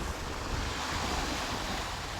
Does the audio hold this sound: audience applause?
no